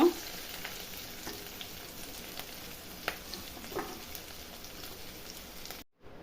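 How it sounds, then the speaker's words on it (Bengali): Steady crackling sizzle of capsicum frying in oil over medium heat with light stirring clicks, continuous and fairly close, cutting off abruptly near the end. "মিডিয়াম আঁচে ভেজে নিব দেখুন ক্যাপসিকামটা ভাজা হয়ে গেছে"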